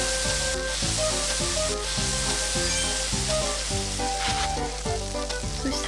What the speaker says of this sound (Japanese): 卵を流し入れて